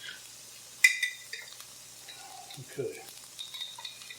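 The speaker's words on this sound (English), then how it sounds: "Right now we're going to throw in some garlic, about a heaping teaspoon." Garlic, about a heaping teaspoon, tossed into a hot pan of jalapenos and stirred, giving a soft sizzle with clinks of a utensil against the pan and scraping stirs; a voice speaks briefly.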